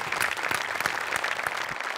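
Enthusiastic studio audience at a Marathi comedy show clapping together, a dense burst of applause that stays strong and steady for a couple of seconds, with no speech over it.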